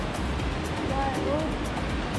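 The Kanjoti waterfall near Dharchula pours in a constant broadband rush, loud and steady, with a faint whistle-like tone briefly heard over it.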